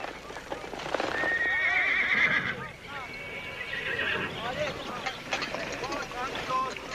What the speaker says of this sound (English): Ride him, Ride him, Joe! Keep his head up